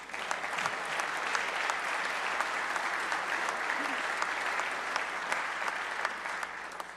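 An audience in a legislative chamber applauds during Indiana's State of the State address, a steady, dense wash of many hands clapping that holds evenly throughout.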